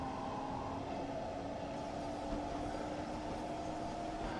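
A train sound effect plays as a steady, continuous rumble with a faint whine running through it, holding an even level from start to finish with no talking.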